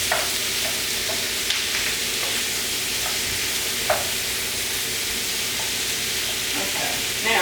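Vegetable stir-fry with carrots sizzling in a hot pan while being stirred, a steady close frying hiss with occasional soft scrapes and clicks of the utensil throughout.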